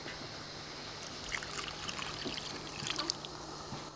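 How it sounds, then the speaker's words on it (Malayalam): Water poured into chicken curry in a pan makes a soft, steady trickle and splash over a low background hum, with no talking. "ഇനി കുറച്ച് വെള്ളം ഒഴിക്കാം വെള്ളം ഒഴിക്കാം"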